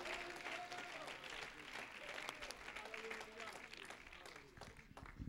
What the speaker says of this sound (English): Clap your hands and let's worship the Lord.